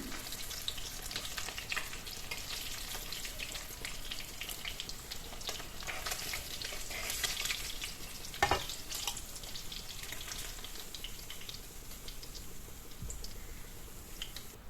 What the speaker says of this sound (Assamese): ধুনীয়াকৈ লুটিয়াই মই মাছখিনি ভাজি ল'লোঁ